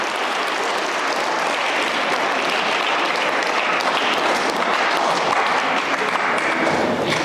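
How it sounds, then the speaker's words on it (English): Loud, continuous applause from an audience at a school literary contest evening, steady clapping filling the whole stretch. "Huge round of applause."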